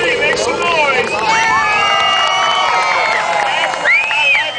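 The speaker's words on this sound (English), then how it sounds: "I like it when you cheer for me" A crowd at a monster truck show cheers and shouts continuously, with many overlapping excited voices, some high and childlike, rising and falling in a loud, dense roar.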